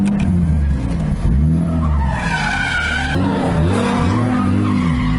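A big-turbo 2JZ-powered Nissan 240SX pro-am drift car squeals its tires in a long, loud skid while the engine revs and roars close by.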